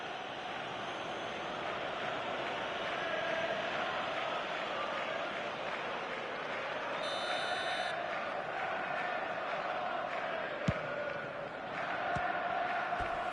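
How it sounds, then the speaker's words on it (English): Stadium crowd in a football video game roars and cheers continuously throughout, a dense steady wash of noise with a couple of sharp clicks near the end. "the crowd level has gone up a notch or 10"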